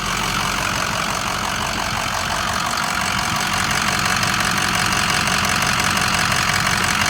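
A 2006 Ford F250 King Ranch engine idling with its oil cap removed, giving a steady, loud mechanical chatter and hum that runs unbroken and close up, with no voices.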